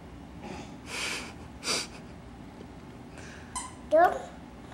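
A small child makes breathy huffs and snorts, then a short squeaky yelp, imitating a dog, with a quiet background.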